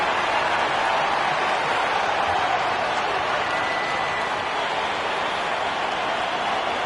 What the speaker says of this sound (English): give a big round of applause to your local youth dance team